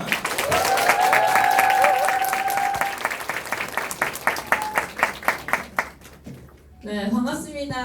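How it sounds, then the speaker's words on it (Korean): Audience applause welcoming a speaker at a lecture event, with music playing over the clapping at first; the clapping thins into scattered claps before a voice speaks near the end. "큰 박수 부탁드립니다."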